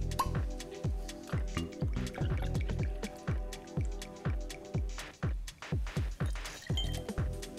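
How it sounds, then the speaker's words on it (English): Bitter Notes, a non-alcoholic aperitif, poured into a highball glass: a steady stream of liquid with rapid, rhythmic glugging drips repeating through the whole pour, close and fairly loud. "In a highball glass, pour 90 ml of bitter notes."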